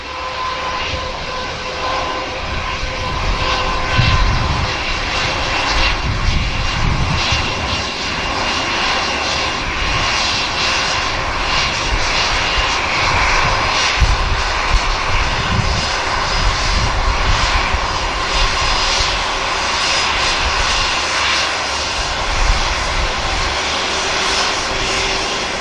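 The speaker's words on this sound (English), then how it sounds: "A nice high pitch whine from these as we get a wave." Loud, steady engine whine from an airliner with IAE engines taxiing at Manchester Airport, the high-pitched tone holding continuously over a broad jet roar for the whole stretch, with no voices.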